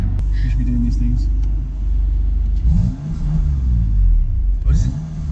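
A BMW M2 Competition engine revs while parked, its revs held back by a limiter, giving a deep rumbling burst that rises and falls twice over a steady idle, with people talking nearby.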